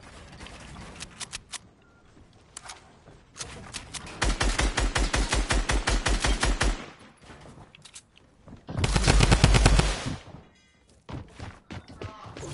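Gunfire in a video game arrives as two long bursts of rapid automatic shots, loud and close, separated by quieter clicks and thumps.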